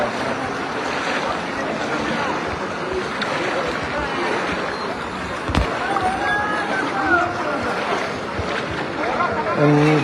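Floodwater current rushing through a flooded area in Feni, a constant loud broadband wash with occasional splashes, under someone speaking.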